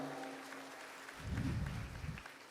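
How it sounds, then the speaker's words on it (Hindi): An audience at a Hindu spiritual discourse gathering in Dhanbad, Jharkhand, breaks into a short round of applause that swells for about a second and then dies away, following a quiet room. "मातृशक्ति के सम्मान में पुनः तालियों की गड़गड़ाहट।"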